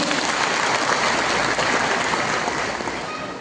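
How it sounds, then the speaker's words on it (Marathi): Loud, dense applause from a large crowd at a political rally, a thick wash of clapping close up that fades slightly toward the end. "काय टाळ्या बिळ्या काय आहेत का नाही?"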